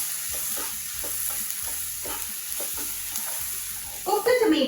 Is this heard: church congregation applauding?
no